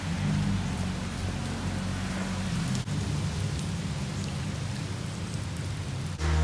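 Rain falls steadily on a road in Krabi, Thailand, in a constant close hiss, with a low rumbling hum beneath it and a sharp break in the sound near the middle.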